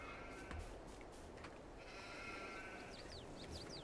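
Sheep in Farming Simulator 22 bleating faintly over a steady rumbling background, a few short cries near the end.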